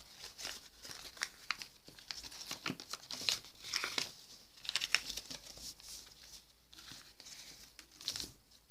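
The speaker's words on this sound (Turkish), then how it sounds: "köşeyi alıp ortaya doğru kıvırıyoruz" Sheets of origami paper crinkle and crease as a corner is folded in toward the center, with close, dry rustling and crackling in irregular bursts and no voice.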